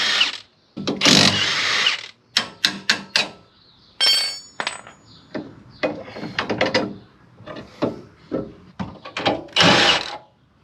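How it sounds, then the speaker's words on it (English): A power tool or ratchet wrench removing bolts from a Nissan Cefiro subframe, sounding in short loud bursts of whirring and clicking separated by pauses, close up with no talking. "I'm going to take this bolt here out, which is for the cast iron bracket"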